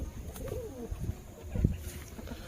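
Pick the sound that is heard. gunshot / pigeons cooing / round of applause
pigeons cooing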